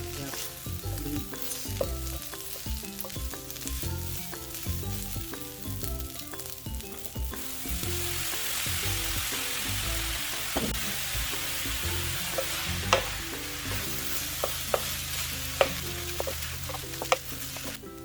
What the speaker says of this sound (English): Let's go mix it with the meat.